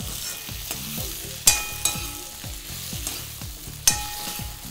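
Jeera aloo, potatoes with cumin, cooks in a pan over a low flame with a gentle steady sizzle, while a spatula scrapes and knocks against the pan a few times, close and moderately quiet, with no talking.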